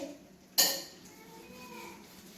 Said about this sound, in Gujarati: આપણે એક થાળી લેવાની છે થાળીની ઉપર આપણે આવી રીતે ઘી લગાવી દેવાનું છે